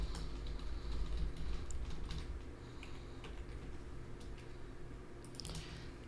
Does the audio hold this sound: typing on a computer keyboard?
yes